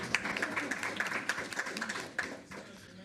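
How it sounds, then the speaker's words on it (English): Scattered clapping from a modest audience at a school district board meeting, a loose irregular patter of hands that thins and fades toward the end, moderately quiet in a room. "You can clap. Go ahead."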